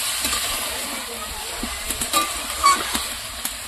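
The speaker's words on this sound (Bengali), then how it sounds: "এই যে মাংসটাকে হচ্ছে ফ্রেশ করে নিয়ে এসেছি, ধুয়ে ধুয়ে, তারপরে মশলা টশলা দিয়ে এই যে বসিয়ে দিয়েছি।" Washed spiced meat frying in a pan, a steady close sizzle with a few soft stirring clicks and scrapes throughout.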